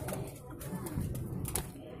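Pigeons in a small rooftop aviary at night give low, soft cooing close by, a steady murmuring drone with a few brief flutters and knocks.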